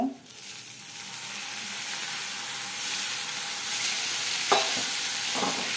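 A little water goes into frying spice masala with ground coriander and cumin, for a pointed gourd curry. Steady, loud hissing sizzle runs throughout, with a few soft stirring scrapes near the end.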